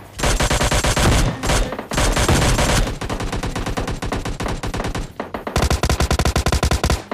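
Loud, rapid automatic gunfire in a video game battle, bursts of machine-gun shots fired in quick succession with a few short pauses, very close and dominant.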